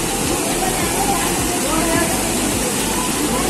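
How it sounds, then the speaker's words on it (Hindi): A waterfall at Jaigaon near the West Bengal–Bhutan border pours with a steady, loud broadband roar and hiss that stays constant throughout, filling the whole scene up close. "देखिए दोस्तों ये है झरना का मजा।"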